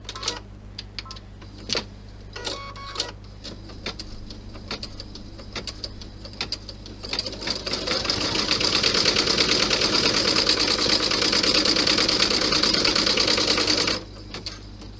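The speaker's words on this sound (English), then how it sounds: "now it's going to stitch a rectangle first" A sewing machine stitches a rectangle through a bag strap on a Santa bag. A few brief taps and clicks come first, then a steady, fairly loud mechanical whir runs for about six seconds and stops abruptly.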